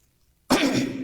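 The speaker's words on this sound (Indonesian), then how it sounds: "Tata cara berdehem yang baik dan benar" A single deliberate throat clearing, demonstrated after a breath is drawn in; a short, loud, rough burst close to the microphone that starts abruptly after a moment of quiet.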